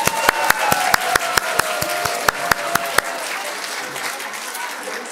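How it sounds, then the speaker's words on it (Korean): An audience at a children's Christmas performance in a church gives warm applause with a few sharp, evenly spaced claps standing out over the crowd, then the clapping fades out. "다시 한번 우리 같은 박수 부탁합니다"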